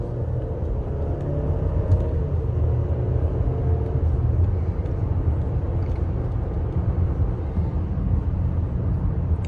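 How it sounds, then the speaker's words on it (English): Turbocharged four-cylinder engine of a 2020 Land Rover Evoque SE R-Dynamic heard from inside while driving, a steady low cabin rumble with road noise and no clear rev changes. "I'm just not a big fan of these turbo 4-cylinder engine sounds"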